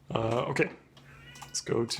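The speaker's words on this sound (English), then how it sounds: "you can hear my cat yelling in the background because she wants outside" A pet cat yowls in the background of a room while a person speaks over it, the drawn-out meows rising between the words.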